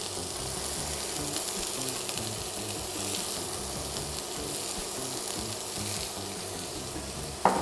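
Food sizzles steadily in a pan with ground garlic powder, a constant close, even frying hiss throughout with a brief clatter at the very end.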